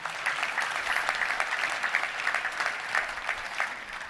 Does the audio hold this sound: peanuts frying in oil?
no